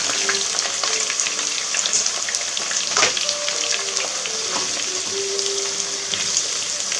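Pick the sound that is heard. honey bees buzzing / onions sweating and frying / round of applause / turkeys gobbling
onions sweating and frying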